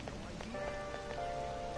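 Steady rain patters and drips on surfaces in Persona 5 Royal, a continuous close wash with soft sustained musical tones ringing over it.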